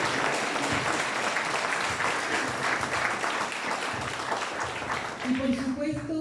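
Applause for a comrade at a presentation of a Marxist journal, a dense, steady patter of many hands that runs throughout and fades slightly, with a voice rising over it near the end.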